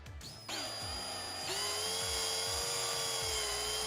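Power tool whining as it works a bolt loose on a 1999 Subaru 2.5 DOHC engine during head gasket work, a steady high drill tone that steps up in pitch, running continuously and close with no talk.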